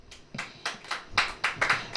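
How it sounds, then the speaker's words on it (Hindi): An audience clapping hands during a church sermon, several bursts of applause building in irregular rhythm, fairly loud and close, with no talk over it. "ताली बजाइए"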